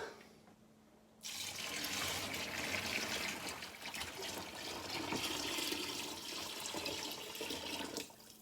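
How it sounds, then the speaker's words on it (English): Honey water for mead pours steadily in a continuous splashing stream, starting abruptly and running for several seconds before tapering at the end. "now we're going to add this, which is the honey water."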